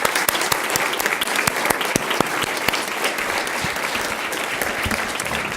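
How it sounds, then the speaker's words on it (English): Enthusiastic applause at a school governing board meeting, with many hands clapping loudly and densely for several seconds and sharp individual claps standing out near the front. "a big round of applause"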